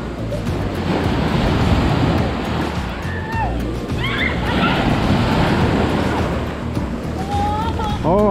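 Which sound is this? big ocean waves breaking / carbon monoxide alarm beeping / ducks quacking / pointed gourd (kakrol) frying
big ocean waves breaking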